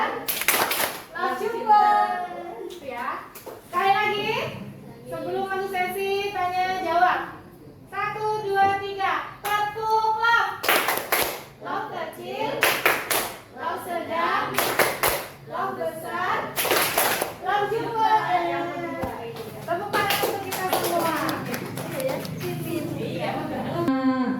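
Schoolchildren chant in unison and clap along to a rhythmic classroom clapping game, sharp bursts of claps punctuating the sung phrases in regular groups, with a teacher leading and voices throughout.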